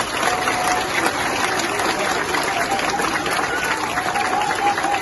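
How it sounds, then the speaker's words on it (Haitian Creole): Audience applause for a minister at a public gathering, a steady dense clapping wash that holds evenly for several seconds, with a faint crowd murmur mixed in. "On voit applaudissement pour le ministre."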